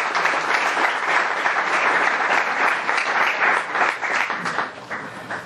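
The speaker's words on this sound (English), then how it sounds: "Let's have a round of applause for them." Sustained applause from an audience at a religious lecture, dense and steady throughout before tapering slightly at the end.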